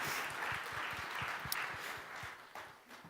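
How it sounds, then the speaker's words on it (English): Applause from a conference audience at a summit session, a thin, soft round of clapping with scattered individual claps, fairly distant and low in level, with a faint voice briefly mixed in. "give a round of applause"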